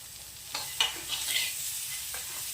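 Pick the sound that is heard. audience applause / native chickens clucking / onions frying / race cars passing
onions frying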